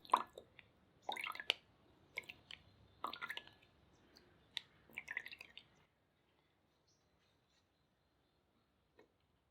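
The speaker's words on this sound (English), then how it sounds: "Once ground, strain to get a smooth liquid." Ground red lentil (masoor dal) paste strained into a cup, giving soft, wet squishing and dripping bursts close up, irregular for about six seconds, then near silence with one last faint drip.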